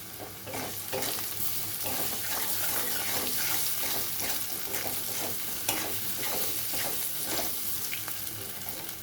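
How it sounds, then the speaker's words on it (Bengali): Potatoes frying in a pan with salt, turmeric and cumin powder, a steady sizzle with repeated scraping stir strokes, close and moderately loud with no talking. "আলুটা একটু ভাজা হয়ে গেছে এখানে একটু পরিমাণ মতো নুন দিয়ে দিচ্ছি হলুদ গুঁড়ো জিরার গুঁড়ো"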